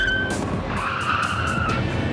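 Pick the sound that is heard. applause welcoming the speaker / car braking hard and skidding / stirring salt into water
car braking hard and skidding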